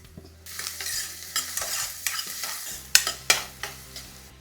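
Onions frying in a pan for aloo kurma, stirred with repeated spoon scrapes and sharp clicks against the pan over a soft steady sizzle, close and with no one speaking.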